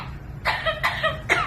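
A talking parrot imitates a human cough, giving three short, raspy coughs in close succession, fairly loud and near, with no talking during the bursts.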